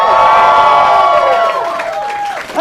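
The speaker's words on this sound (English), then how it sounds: "I would like to hear a preemptive round of applause for tonight's, my new best friends" A crowd at a live comedy show cheers and whoops loudly with applause, a high sustained roar of voices that tapers slightly toward the end.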